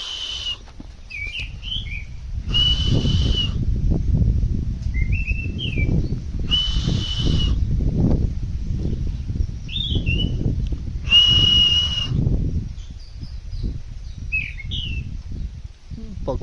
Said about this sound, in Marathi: मी आवाज देतोय तो पण तिकडून आवाज देतो, म्हणजे पक्ष्यांना किती समजतं.